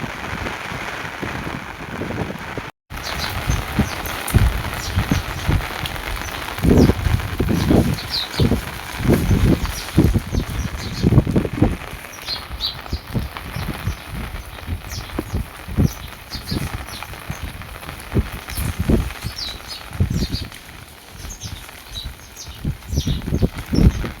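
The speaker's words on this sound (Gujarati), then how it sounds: "જ્યાં હમણાં વરસાદ ચાલુ જ છે" Steady heavy rain pours down outdoors during a flood, a continuous close hiss of dense drops with scattered louder patters and splashes throughout.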